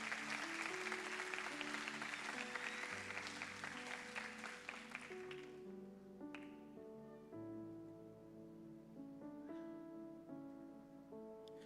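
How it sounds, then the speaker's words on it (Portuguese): Congregational applause at a church youth service fills the first five seconds, dense and steady, then fades as sustained music carries on alone. "Vamos aplaudir o Senhor por isso"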